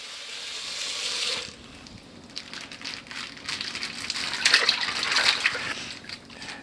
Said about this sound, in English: I'm going to fill this bowl halfway with cold water.